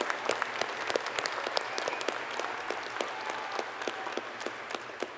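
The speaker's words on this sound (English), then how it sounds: "Let's give them a round of applause." Audience at a university honors convocation giving a round of applause, a sustained, even crowd clapping heard from a distance and fairly quiet, with scattered individual claps standing out.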